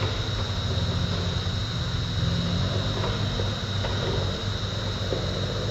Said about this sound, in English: I'm gonna lower the drone some here